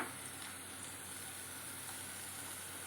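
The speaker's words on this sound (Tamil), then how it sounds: "வெங்காயம் போட்டுட்டு நம்ம வந்து நல்லா வதக்கிக்கலாம்" Onions sauté in a pan with a little salt, giving off a soft, steady sizzle and hiss that stays even and fairly quiet throughout, with no speech.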